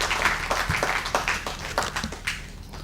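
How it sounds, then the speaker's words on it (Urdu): An audience at a mushaira poetry gathering claps in a steady, fairly close patter of applause that lasts a few seconds and then thins out. "مشاعرے کے لیے تالیاں ہو جائیے گا۔"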